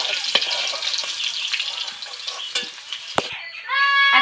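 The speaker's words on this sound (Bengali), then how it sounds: "আমি আলুটাকে খুব ভালো করে ভেজে নিয়েছি" Potatoes frying in oil for a Bengali meal, a close crackling sizzle broken by utensil scrapes and a sharp clack, ending in a rush of running water.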